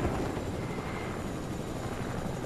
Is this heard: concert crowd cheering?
no